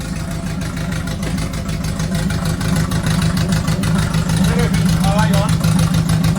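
A Mk1 Ford Fiesta engine runs steadily at a capped rev level near 2400 RPM, a loud continuous low drone, with a voice speaking briefly over it.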